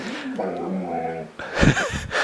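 A dog whimpers indoors, a brief high whine near the mic, followed by a short sharper yelp or whine burst.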